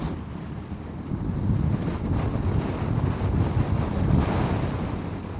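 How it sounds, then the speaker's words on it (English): Strong crosswind buffets the microphone on a motorbike ride through a storm, a steady loud roar with gusts swelling and easing, no voices over it. "Bit of a crosswind. Leaves blowing across the road."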